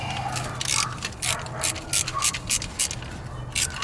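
Ratchet with a 16 mm socket loosening the center bolt on a Grand Caravan or Town and Country belt tensioner, rapid close clicking bursts in quick irregular strokes.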